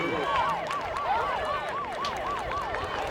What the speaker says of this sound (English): that siren going off would be the soft cap